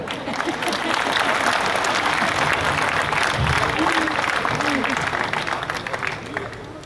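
A packed audience claps at a 2024 Hindi poetry recital (kavi sammelan) in Sujangarh: dense, steady applause fills the whole stretch, with a few voices under it before it eases slightly at the end.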